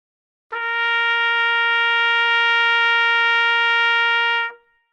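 A trumpet sounds one steady, sustained note played relaxed on a low, deep breath, rich in even harmonics, held for about four seconds alone with a clean attack and release.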